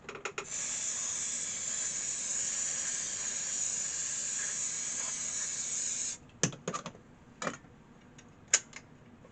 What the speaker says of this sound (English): So I'll get the contact cleaner, which is down here. CPC's finest.